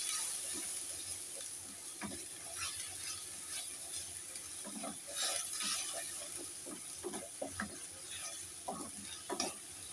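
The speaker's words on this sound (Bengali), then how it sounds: "দিয়ে এবার এটা আস্তে আস্তে নেড়ে নেব" Pomfret fish being stirred slowly in a pan with salt and turmeric, giving soft scraping strokes over a steady, quiet sizzle.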